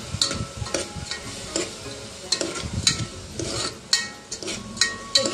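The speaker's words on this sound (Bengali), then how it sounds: "এই ঘিটা দিয়ে এবার আমি চালটাকে ভালো করে নাড়াচাড়া করে দেব" Rice grains being stirred with ghee in a cooking pot, giving a steady run of scraping, rustling strokes with soft sizzling underneath and sharp clicks where the spoon hits the pot rim, close and fairly loud with no talking.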